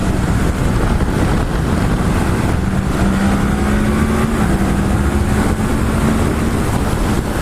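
A Yamaha MT-10 SP motorcycle with a tweaked R1 engine accelerates on a test ride, its engine note climbing steadily beneath loud, constant wind buffeting from the rider's microphone.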